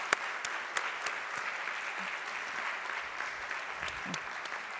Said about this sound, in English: Can we give them a round of applause for running?